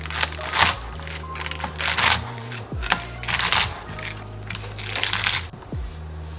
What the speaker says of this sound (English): I like really crisp romaine lettuce. So I'm gonna cut these into bite-sized pieces for my salad